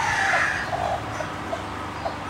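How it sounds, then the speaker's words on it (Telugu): Chickens cluck at a cattle farm in Dubai, giving short soft calls over a continuous, fairly loud background hiss of farm ambience, with no talking. "చూడండి, కోళ్ళు కూడా ఉన్నాయి మీకు."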